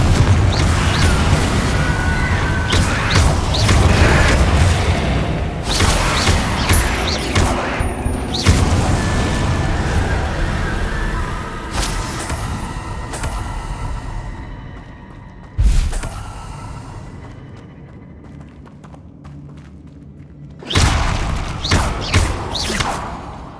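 Confringo fire-blast spells in Hogwarts Legacy combat go off as loud booms and crashing impacts amid dense battle noise, fading toward quieter stretches before a final burst of blasts.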